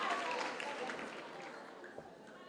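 A graduation audience at Walter Sisulu University claps as a fairly quiet, broad wash of crowd applause that slowly thins out over a couple of seconds.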